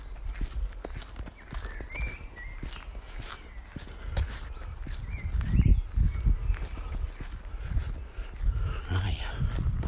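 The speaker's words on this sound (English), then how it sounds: "Horses." Horses walk outdoors at dusk with faint, scattered hoof clops and shuffling steps, and low thumps and rustles mixed in along the way.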